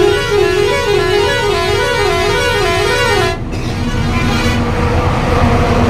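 Loud musical truck horns blare continuously in a wavering, looping pattern over heavy road rumble on an Indian expressway ghat section in a traffic jam, briefly cutting out before a steady honk resumes.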